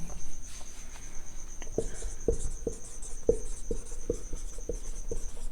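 Pen or chalk strokes sound during a mathematics lecture, a steady run of crisp taps and short scratches at an uneven pace, close and clear over a faint steady hum, with no talking.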